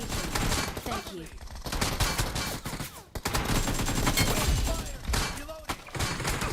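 Sustained automatic gunfire in BGMI (PUBG Mobile), loud and near, with rapid crackling bursts running almost continuously, a brief gap in the middle, and game voice callouts faintly mixed in.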